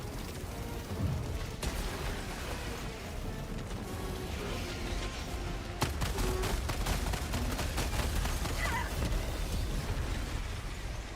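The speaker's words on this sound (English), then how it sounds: "Grenade." Combat in the Helldivers 2 video game, with dense bursts of gunfire and rapid shots over a constant rumbling battle din, punctuated by heavier blasts from grenades.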